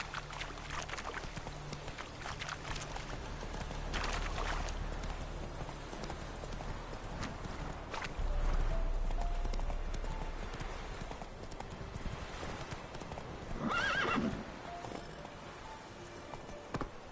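Horse hooves clip-clop steadily through The Witcher: Wild Hunt at a walking pace, close and moderately loud, with a brief whinny-like burst near the end over low ambient game sound.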